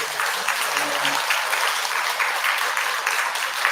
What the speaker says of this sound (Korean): 동의하시면 큰 박수 한번 부탁드립니다